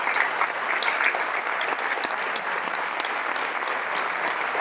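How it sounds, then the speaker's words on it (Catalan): An outdoor crowd at a sardana gathering in Santa Coloma de Gramenet applauds the giant bearers, a broad sustained wash of clapping from many people, even and continuous from start to finish. "Aixequeu-vos i aplaudiu-los."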